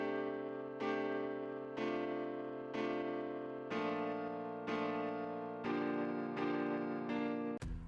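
FL Keys piano playing a bedroom pop chord progression in a steady rhythm, with eight struck chords, each decaying before the next, clean and up close with no other instruments.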